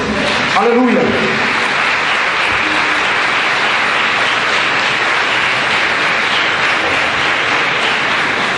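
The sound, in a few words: audience applause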